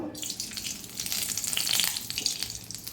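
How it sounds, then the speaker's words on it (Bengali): Panch phoron five-spice dropped into hot oil in a wok (kadai) sizzles and crackles steadily at close range, the frying hiss swelling slightly midway, with no talking. "এবারে কড়াইয়ের মধ্যে আমি একটু পাঁচফোড়ন দেব"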